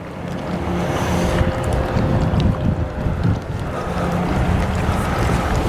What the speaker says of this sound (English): since we're right on the middle of the lake, Hamanako, it gets pretty windy